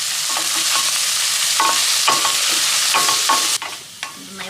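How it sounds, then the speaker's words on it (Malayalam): Finely sliced onions and green chilies frying in a pan, a loud, continuous sizzle broken by repeated scraping strokes of a stirring spoon, close up, without any talking. "അപ്പൊ നമ്മുടെ ഈ സബോള അങ്ങനെ വാടിക്കൊണ്ടിരിക്കുകയാണ്."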